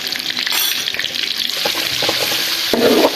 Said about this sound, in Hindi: हमने तकरीबन 20 सेकंड अदरक और लहसुन के पेस्ट को फ्राई कर लिया है